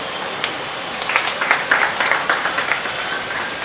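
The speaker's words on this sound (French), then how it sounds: "Nous vous présentons le vice-cordon Ludovic avec vos acclamations." An audience at a political party gathering claps for a newly introduced official, a thin, scattered applause of a small crowd rising to a modest patter and then tapering off.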